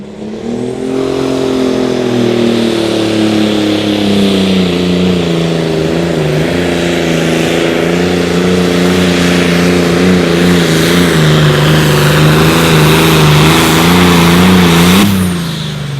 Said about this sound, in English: RPM comes up. Going to build some boost and turn it loose.